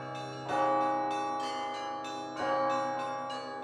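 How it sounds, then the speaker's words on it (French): Large bells at the New Jerusalem Monastery in Russia ring out twice in slow succession, each strike blooming into a long, rich, humming decay. "À travers les cloches, on entend Dieu."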